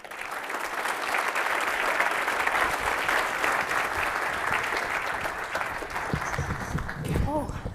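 Sustained audience applause after a software-testing conference talk in Toronto, a steady dense wash of clapping throughout, with a voice breaking in near the end.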